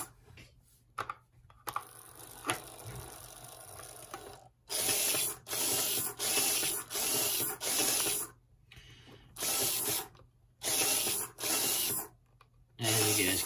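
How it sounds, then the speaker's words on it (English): Four RC servos driven by a servo tester whir in short, even bursts that start and stop in a regular pattern, close and fairly quiet, with faint clicks and pauses between runs. "See, everything works just fine with four servos connected to the battery tester"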